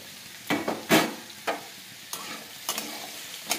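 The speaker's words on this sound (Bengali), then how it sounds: "হালকা করে এবার নেড়ে নেব।" Peanuts and soaked soy chunks are stirred in a pan, giving several distinct scraping strokes, close and moderately loud, with a faint sizzle between them and no talking.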